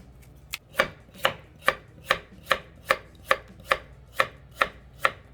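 Knife chopping young eolgari cabbage kimchi vegetables on a cutting board, about a dozen crisp, evenly spaced strokes in a steady rhythm, close and clear with no talking.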